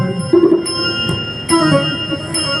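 A bell rings in a spoken Krishna tale about stealing butter, giving several clear metallic strikes with ringing tones that overlap and sustain over a steady background.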